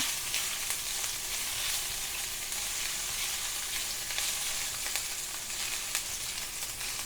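Ginger and green chilies are mixed in a pan for samosa filling, giving a soft, even frying sizzle with light stirring scrapes throughout.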